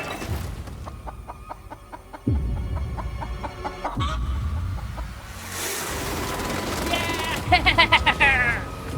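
A chicken clucks in short, fast, close bursts near the end, following a stretch of busy outdoor noise and people talking.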